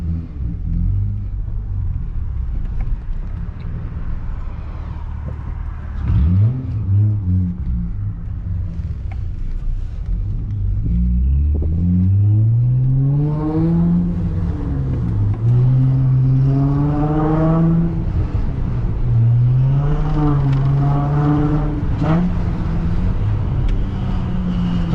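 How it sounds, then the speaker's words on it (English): A 2004-2008 Acura TL with a slightly slipping clutch drives along, its engine rumbling steadily and rising and falling in pitch as it revs and pulls, loud and close throughout with no talk. "Doesn't smell like the clutch is burning, but it is slipping a little bit."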